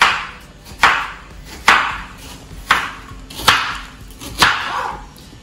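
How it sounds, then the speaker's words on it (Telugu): A knife chops an onion finely into small squares on a board, giving six sharp, evenly spaced chops with short ringing decays and no voices. "దీన్ని స్క్వేర్ స్క్వేర్ గా ఫైన్ చాప్"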